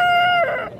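A rooster, an Aseel breed bird at a country chicken market, lets out a single close, loud crow, a sustained ringing call that breaks and trails off within a second.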